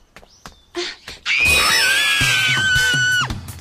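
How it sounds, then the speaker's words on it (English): An anime character lets out a loud, sustained high-pitched scream lasting about two seconds, preceded by a few short vocal sounds and clatter. "What are you screaming about?"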